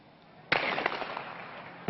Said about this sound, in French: au carrefour de Netzarim, la fusillade reprend